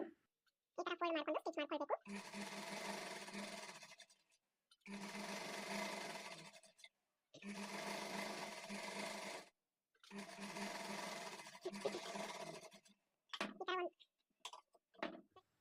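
A sewing machine stitches blouse fabric along a quarter-inch margin, running in four steady, loud bursts of a few seconds each with short pauses, and a voice speaks briefly between runs.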